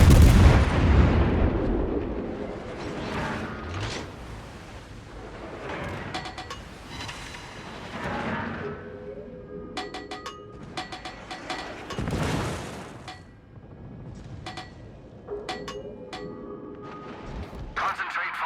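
Warship artillery booms in World of Warships as the Annapolis super cruiser fights: a heavy opening salvo, then scattered gun reports and distant thuds over a few seconds of mechanical clatter, with a voice speaking between shots.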